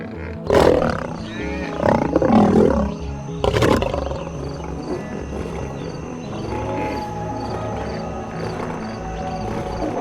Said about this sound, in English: The roar, the structure of flat, square vocal folds allows lions to produce high-intensity sound with minimal effort.